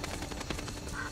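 A duck quacks once, briefly, in the video game Risen 3, set against a steady wash of game ambience and music.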